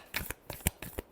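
A short burst of tarot card shuffling: a few quick, close papery snaps in a rough rhythm, with no voices.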